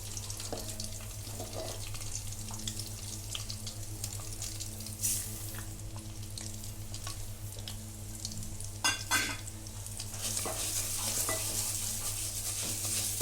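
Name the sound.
dalia (broken wheat) roasting on slow flame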